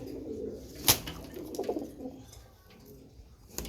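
Silver pigeons coo softly in a few short, low murmuring calls, with one sharp click or flutter partway through and quiet background noise between calls.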